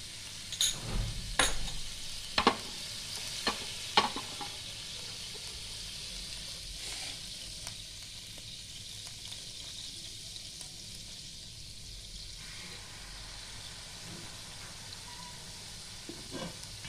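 Water hissing and sizzling on a hot tawa while kulcha is made, with a few sharp crackles and pops in the first seconds, then a steady soft hiss that fades slightly, close by and without talk.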